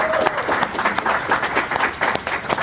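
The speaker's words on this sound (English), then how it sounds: "Clap it up" A room full of people clapping at a BlerDCon convention panel, close and lively, with distinct individual claps standing out in the brisk, uneven applause.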